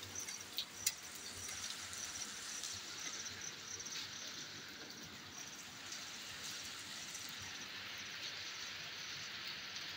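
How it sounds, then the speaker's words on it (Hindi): Steady monsoon rain falls at night in Pindi in a continuous hiss, with a few faint ticks and clicks near the start; no voices. "ये बारिश की फवार है दोस्तों"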